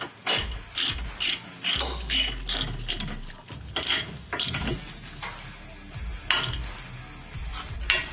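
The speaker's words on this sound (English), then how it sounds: "we're going to be using the 17 millimeter again to tighten that bad boy down" A 17 mm socket ratchet clicks in quick, repeated bursts as it tightens a sway bar end link bolt on a 2019-2021 Subaru Forester during a lift kit install, close and crisp with short pauses between strokes.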